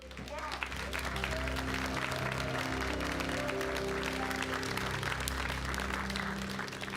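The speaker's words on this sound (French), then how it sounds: "est-ce que vous êtes d'accord pour qu'on fasse un grand applaudissement pour le Seigneur?" Children clapping together for the Lord during a French Christian children's worship lesson, a steady, fairly quiet patter of many small hands with music sustained underneath.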